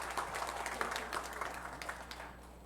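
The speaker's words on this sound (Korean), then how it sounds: "박수 한번 쳐주십시오" A congregation at a Korean Sunday worship service claps together in a quiet, somewhat distant burst of steady applause over a low room hum, thinning out toward the end.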